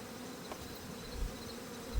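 A honey bee colony buzzing during a hive inspection, a dense continuous drone of many bees close by, steady and moderately loud throughout.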